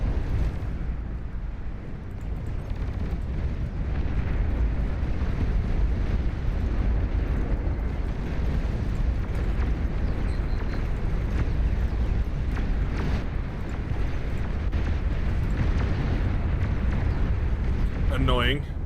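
Nuclear missile launch in the strategy game Beyond All Reason: a loud, steady, rumbling roar that fills the whole stretch, with a voice faintly present over it.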